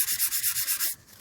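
Chrome-plated metal is hand-sanded toward a brushed finish in quick, close strokes, about eight rhythmic rasping passes before it stops.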